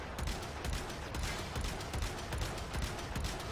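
Argonak rifle firing at enemies in Warframe, a dense, continuous burst of rapid shots that stays loud and close throughout without a break, and no voice over the gunfire.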